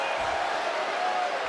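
A wrestling arena crowd rallying behind Roxanne Perez at a WWE Raw event: a brief, steady wash of broadband cheering and crowd roar that holds at an even level throughout.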